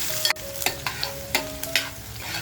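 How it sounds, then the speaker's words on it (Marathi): Chopped onion dropped into hot oil in a pan, sizzling steadily at close range while a spoon stirs it with a few sharp clinks and scrapes. "कांदा कापून घेतलाय तर कांदा टाकूया"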